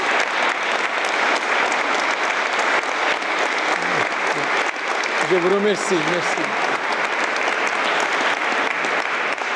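A church congregation at a Sunday Mass applauds steadily and loudly throughout, a dense wash of clapping while a voice speaks over it.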